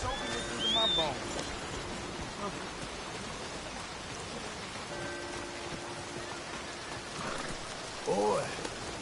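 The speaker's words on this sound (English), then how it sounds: "Rain soaking it through my bones." Steady rain falling in a Red Dead Redemption 2 town, a dense hissing wash of drops on surfaces with distant rumbles, while voices speak briefly at the start and end.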